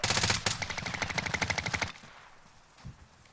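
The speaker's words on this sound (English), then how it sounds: "I'm getting shot at." Rapid automatic gunfire in the video game Warzone at night in Verdansk: a loud, dense burst of shots for about two seconds, then it cuts off, leaving a quiet tail with one faint thump.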